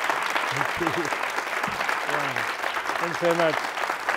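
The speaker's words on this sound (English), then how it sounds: "Can I have another very warm applause" Audience applause after a film Q&A at a cinema in Amsterdam, a steady bed of many people clapping while a man close to the microphone speaks a few brief words of thanks over it.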